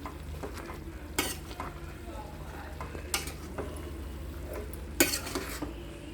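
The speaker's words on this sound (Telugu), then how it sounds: "ఇప్పుడు ఒకసారి మిక్స్ చేసుకుందాం." Curry being stirred in a steel pan while it gently cooks, with a soft continuous sizzle and a few sharp metallic scrapes and clinks of the spoon against the pan at spaced intervals.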